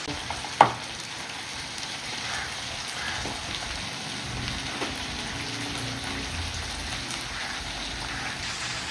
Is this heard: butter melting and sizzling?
yes